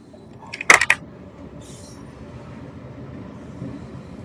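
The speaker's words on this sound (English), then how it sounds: "there's like a super loud train" A very loud train passes, with a sharp metallic squeal and clatter burst early on, then a continuous low rumble that rolls on to the end.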